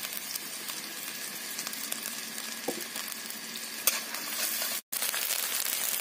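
Cumin, garlic and ginger paste with red chili sizzle and fry with browned onions in a pan, a steady close crackle with light stirring scrapes and no talk.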